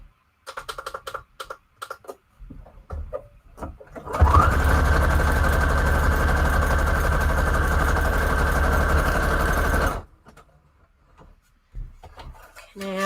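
A sewing machine stitching paper embellishments for guest checks runs in one steady whirring burst of about six seconds, set between short clicks and handling sounds.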